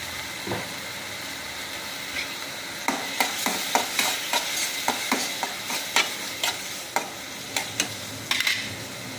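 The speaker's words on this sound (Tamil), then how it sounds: "வெங்காயம் நல்லா வதங்குது" Onions sizzle and fry in a pan, with a steady crackle punctuated by repeated sharp clinks of a utensil stirring against metal.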